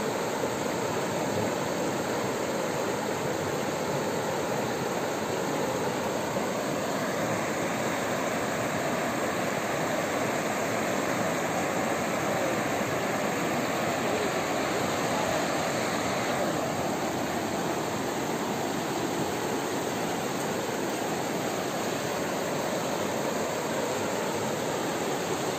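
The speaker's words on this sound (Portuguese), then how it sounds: "Uma zoada que é zoada gostosa, a gente ouvir essa zoada, olha. Bastante água, logo aqui no fundo da casa" Roar of rushing river water just behind a house, a loud, steady, unbroken wash of noise lasting throughout with no talking.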